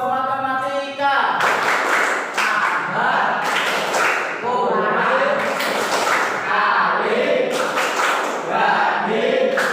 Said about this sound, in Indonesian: Tepuk matematika.